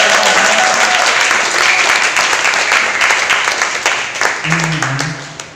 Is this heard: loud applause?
yes